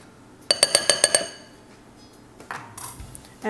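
Whisk or spoon clinking rapidly against a glass bowl while mixing baking soda, baking powder and salt for cookies, about seven bright rhythmic taps in quick succession, then a few softer scrapes.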